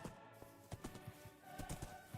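Horse hooves clip-clopping in a video game, a faint, irregular trot of soft thuds under low background ambience, with no talking.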